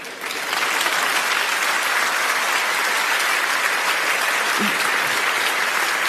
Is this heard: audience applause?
yes